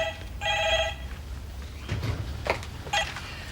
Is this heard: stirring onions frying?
no